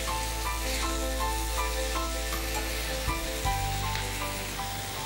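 Chicken pieces with onion, garlic, ginger and green chilli fry on a very hot pan, giving a steady, dense sizzle with light crackles and a few soft stirring knocks, close and with no voices.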